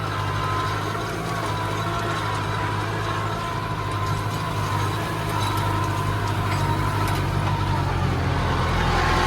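A Case JX75E tractor labouring as it works a grassy, long-unplanted meadow: a continuous heavy engine drone with steady tonal hum, loud and close, holding constant without pauses.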